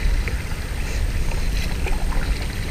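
A kayak pushes through sea waves off a beach, giving a continuous close wash of water and wind rumble with sloshing surges and no clear talk.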